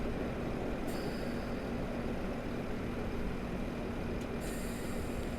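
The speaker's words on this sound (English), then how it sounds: "so we need to get some brakes on. We're just approaching the platform now." A two-carriage train in Train Simulator Classic brakes on the approach to a platform on the North Wales Coast Line, a steady loud rumble with faint high wheel squeals starting and stopping.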